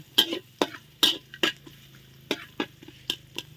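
Pounded garlic fries in a pan while being stirred, with sharp scraping strokes at an uneven rhythm over a low, steady sizzle.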